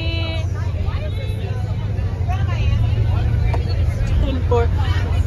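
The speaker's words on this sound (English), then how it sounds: "we're on the bus on the way to the day party" Interior of a moving bus carrying college students on the way to a day party: a steady low engine and road rumble runs throughout, with people chatting and babbling over it.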